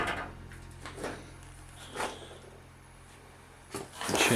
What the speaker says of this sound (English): get this door here, shut it,